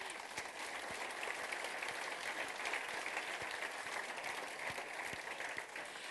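A conference audience applauds at the opening session, a steady, dense wash of many hands clapping that holds evenly throughout without pause.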